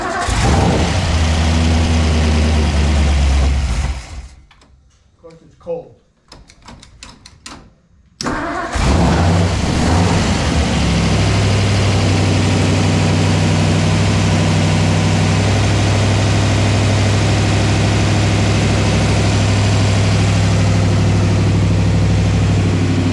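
A 1956 Ford Thunderbird engine is cranked from cold, goes quiet for a few seconds, then catches. It settles into a loud, steady idle that carries on to the end, with no voices.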